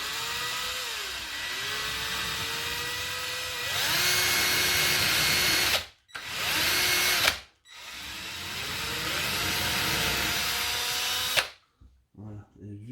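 A power drill bores into metal with a loud, close, whining motor in long runs whose pitch shifts with load, broken by brief stops and ending abruptly.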